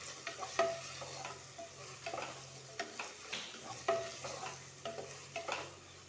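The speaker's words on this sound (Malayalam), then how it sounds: "സവാള ഒന്ന് ഇടക്കിടക്ക് ഇളക്കി കൊടുക്കണം." Onions frying in a pan for a Kerala bone-and-tapioca dish, with a steady low sizzle and spoon or spatula scrapes about every half second to second, close and alone with no talking.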